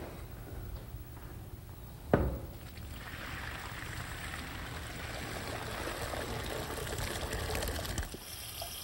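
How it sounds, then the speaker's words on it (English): Boiled vegetables being drained as water pours out of a pot into a sink, a steady watery rush with a sharp clank near the start, running continuously for several seconds before cutting off. "Now you want to drain it immediately."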